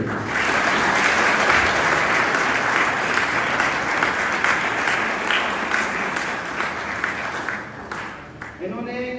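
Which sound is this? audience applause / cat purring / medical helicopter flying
audience applause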